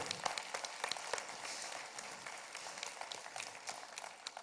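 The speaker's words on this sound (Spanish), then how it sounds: "Vamos a darle un fuerte aplauso por eso." Church congregation applauding during a sermon, faint and distant clapping with scattered sharp individual claps over several seconds.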